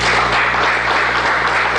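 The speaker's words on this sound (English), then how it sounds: "to a round of applause." Applause from a mission control room as the Artemis I Orion spacecraft is handed over after splashdown in the Pacific, steady and loud, filling the whole moment with no voices.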